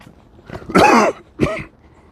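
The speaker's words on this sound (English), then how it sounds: "I'm coughing up stuff I can hear, like rumblings" Two close, harsh chesty coughs with a wet, rattling quality from congestion, the first longer and heavier, the second short, then quiet.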